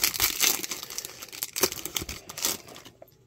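Crinkly plastic wrapper of a Pokémon card booster pack being torn open, a run of sharp rustling, crackling bursts close up that tapers off into near silence at the end.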